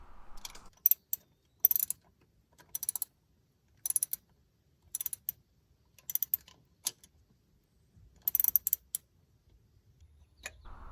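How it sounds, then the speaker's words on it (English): Work on an Acura TSX air conditioning compressor as it is bolted back on, with scattered quiet ratcheting bursts and metallic clicks separated by short pauses. "so now I'm just bolting everything back together."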